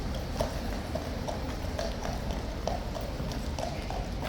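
Steady clip-clop of horse hooves on pavement, many hooves in a brisk overlapping rhythm against a constant outdoor background.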